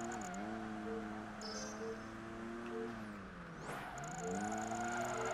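Race car engine in the video game Project Gotham Racing 3 on a Tokyo circuit, a steady high drone with harmonic whine that dips and climbs through gear shifts and revs.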